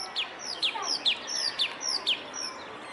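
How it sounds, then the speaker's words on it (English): Small wild birds chirp and call in a short series of bright tweets, about eight separate notes in an uneven rhythm, fairly close over a quiet background with no talking. "It's so nice listening to the sound of the birds."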